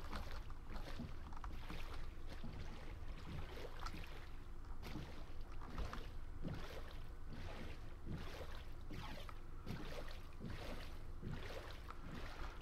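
Minecraft boat gliding over water in a modded game, a faint, steady wash of splashing with rhythmic paddle-like strokes repeating through the whole stretch, no voices.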